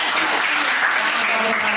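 A classroom audience claps steadily for a couple of seconds for a student group, a dense, even patter of many hands with faint voices mixed in.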